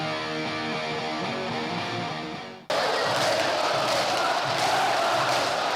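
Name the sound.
Vasco da Gama football fans celebrating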